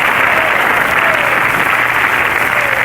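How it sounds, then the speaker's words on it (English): Studio audience applause roars through a 1935 radio amateur show broadcast, a loud, dense, unbroken wall of clapping with a faint voice underneath. "The most applause was got by little Teeny."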